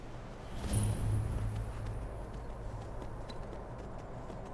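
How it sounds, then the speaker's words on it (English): Horse hooves clop in a quick, even rhythm on a hard surface in Skyrim near Windhelm, with a low droning tone and background ambience underneath. "I should leave my horse here at the stables."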